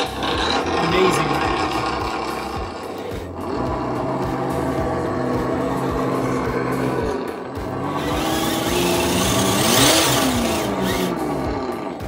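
ESS1 sound kit on an RC car playing a simulated engine, a loud continuous rumble that rises and falls in revs over twelve seconds, close up, with a brief dip midway and no clear talking.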